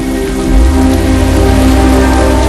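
Steady rain falls heavily in London, a dense, continuous hiss of drops on surfaces that swells slightly after the start and holds at an even, loud level.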